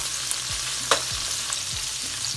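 Onions sauté in a hot pan for aloo bharta with a steady, close hiss of frying, a few soft spatula stirs, and one brief louder scrape partway through, with no talking.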